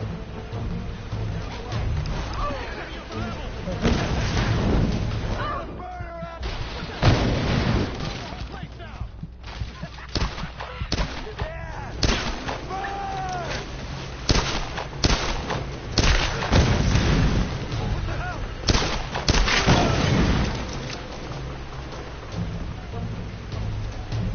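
Gunfire in the Tomb Raider video game comes as bursts of shots and impacts over a dense, loud game soundscape that runs for the whole stretch, with people talking over it at times.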